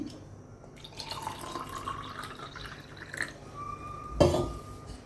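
Water is poured into a glass for raw mango sarbat, with soft dripping and trickling that ends in a short, louder splash near the end.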